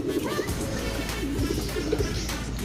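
Pigeons cooing at a racing-pigeon training loft, with low rolling coos repeating steadily over a continuous background murmur, fairly close and moderately loud throughout.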